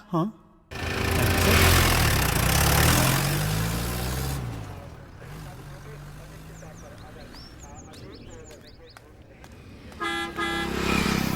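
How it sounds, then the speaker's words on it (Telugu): A bus pulls in with its horn honking in short bursts over rumbling traffic and engine noise, while people talk nearby. "ఓ అమ్మ, బస్సు వచ్చేస్తుంది."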